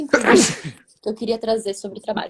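A single sharp sneeze bursts out near the start, loud and close, followed by conversational speech in Portuguese during a live training session.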